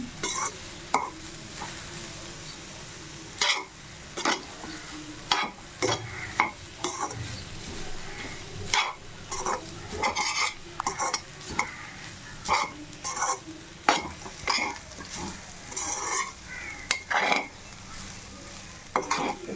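Vegetable fried rice with fried cauliflower is stirred and tossed in a hot pan, with a continuous close sizzle under frequent sharp scrapes and clatters of a spoon against the pan.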